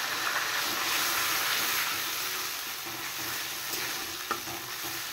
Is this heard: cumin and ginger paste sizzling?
yes